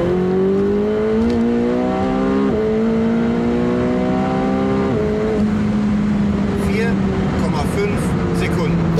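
McLaren 720S sports car accelerating hard, its engine climbing through a steady rising drone with a gear-shift drop around mid-run, loud and close throughout, with talk partly overlapping it.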